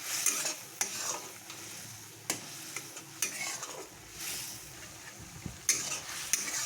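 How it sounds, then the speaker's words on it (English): Noodle soup with Manchurian masala being stirred in a cooking pot: repeated scraping and clinking of a utensil against the metal, with a light bubbling simmer underneath, close and fairly quiet, no talking. "Now stir it."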